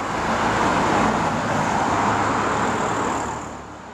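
Fast-moving heavy road traffic on the Conwy Cob, a steady loud roar of passing cars and larger vehicles that continues throughout and eases slightly near the end, with no talking.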